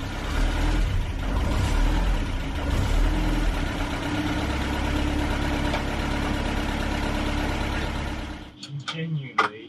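Land Rover Series III engine running at idle after a year standing, a steady close low rumble that continues for about eight seconds before cutting off, followed by a few brief knocks.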